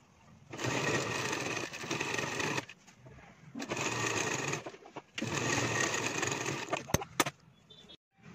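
A sewing machine joins the shoulder seams of a women's shirt in three steady whirring runs separated by brief pauses, ending with a couple of sharp clicks.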